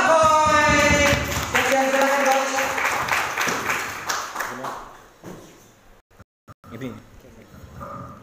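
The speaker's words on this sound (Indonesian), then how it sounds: "langsung saja kita kasih tepuk tangan dong buat Coach Nako" Audience applause for Coach Nako at an entrepreneurship seminar, loud dense clapping at the start that thins and fades over several seconds, with a voice speaking as it dies away.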